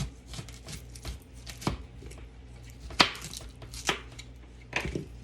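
An onion is halved, cleaned and quartered with a knife on a cutting board, giving a handful of sharp, separate chops at an uneven pace, close and moderately loud.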